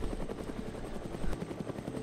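A helicopter in the ArmA 3 video game drones steadily with a rapid rotor chop throughout, loud and continuous, with no talk over it.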